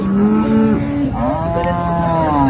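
Cows moo loudly and close by at a cattle market in Sangola, one long low bellow followed by another rising, drawn-out moo.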